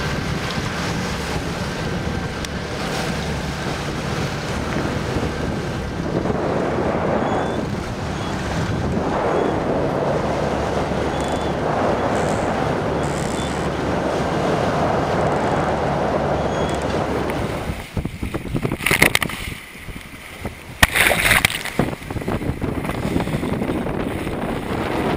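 A sailboat pounds through rough seas between Paros and Syros, with loud, constant wind buffeting the microphone and waves crashing against the hull, broken near the end by a few sharp splashes and thumps.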